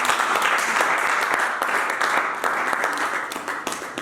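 A church congregation applauds steadily for about four seconds, a dense, continuous wash of many hands clapping at close range, with no voices rising above it.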